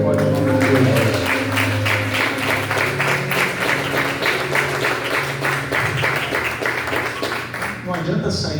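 Applause from a church congregation at a Brazilian evangelical faith service fills the clip, steady and loud throughout, mixed with cheering voices and music underneath.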